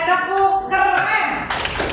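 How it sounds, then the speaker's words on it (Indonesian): Children in a classroom perform a rhythmic group 'cool clap', a short burst of patterned hand claps close by, with a voice mixed in. "Tepuk keren."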